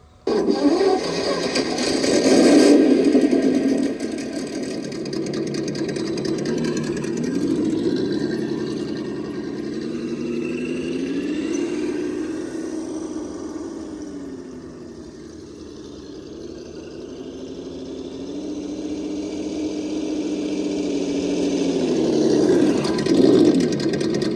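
An RC truck's sound kit simulates an engine, rumbling continuously and rising and falling in pitch as if revving and idling, with no talking over it.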